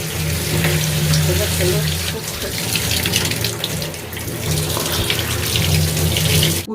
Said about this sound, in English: So I'm using hot water.